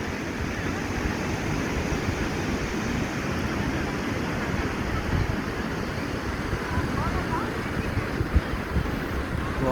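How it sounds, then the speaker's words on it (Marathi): Surf at Guhagar beach, a long sandy shore crowded with people at sunset, forms a steady broadband wash of waves with wind rumble, continuous and fairly loud. "गुहागरचा हा समुद्रकिनारा"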